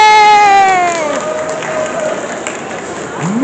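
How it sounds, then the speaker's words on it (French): An audience applauds at a geek expo in Avignon, France, with a steady wash of clapping and crowd noise rising after a raised voice at the start. "mesdames et messieurs, on peut les applaudir"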